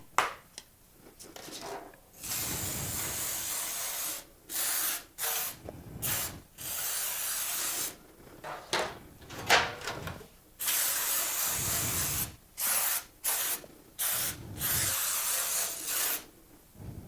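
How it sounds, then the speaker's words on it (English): Baker's Joy baking spray is sprayed onto baking pans and their sides in a series of close, loud hissing bursts of varying length separated by short pauses, with light handling noise between them. "I'm going to use this Baker's Joy spray and spray the pans and the sides."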